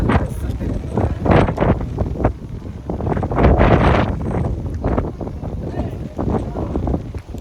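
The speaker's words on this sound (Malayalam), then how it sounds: "നല്ലൊരു മഴ വരാൻ പോകുന്നുണ്ട് ഇതാ അതിൻ്റെ കാറ്റ് വീശുന്നുണ്ട്" Gusty wind at Matheran hill station before monsoon rain buffets and roars in uneven bursts, rising and falling loudly over several seconds.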